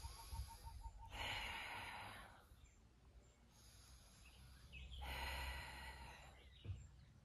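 Pilates breathing during an exercise class: two long, slow, audible exhalations, each a few seconds long and separated by quieter pauses, faint and close, with no talk over them.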